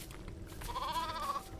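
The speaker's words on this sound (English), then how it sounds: "Oh, there's a sheep." A single sheep bleats in the video game LEGO Fortnite, one short, wavering call at moderate distance over soft background game ambience.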